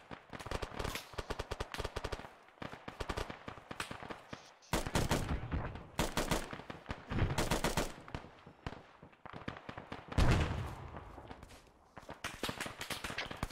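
Rapid bursts of automatic gunfire in an Arma 3 battle on Tanoa, with sharp repeated volleys and short pauses between them, fairly close and steady across the whole stretch.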